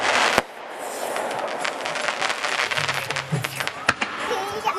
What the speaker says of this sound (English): Rocket blasting in midair. Fireworks.